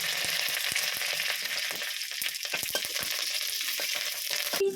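Dried red chillies, black mustard seeds and curry leaves are tempered in hot oil. A quiet, even crackling sizzle runs throughout with small popping clicks and a light stir near the end.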